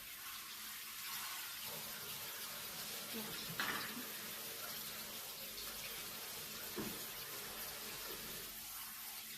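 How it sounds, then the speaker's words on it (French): Fruit kefir grains rinsed under a running tap, giving a steady, even wash of flowing water at moderate distance with a couple of faint knocks. "donc déjà on va les rincer les grains"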